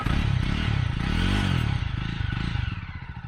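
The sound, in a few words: motorcycle engine thumping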